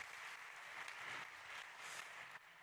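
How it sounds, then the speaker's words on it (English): Applause from the audience at a fintech and insurtech startup competition after a presenter's pitch: a faint, steady wash of many hands clapping, continuous and distant for a couple of seconds. "Okay, big applause for Javier."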